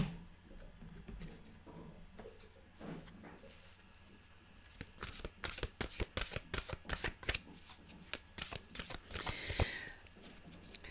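A deck of mantra cards is shuffled by hand, giving a quick run of crisp riffling flutters and taps that grows busier and louder in the second half, close up and with no speech over it.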